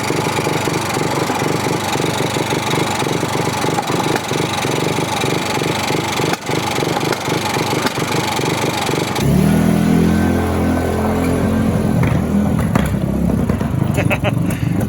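A Polaris RZR 170 engine idles with a rough, uneven putter that holds steady, then shifts to a deeper, louder, lumpier running note partway through, close by with a voice speaking over it.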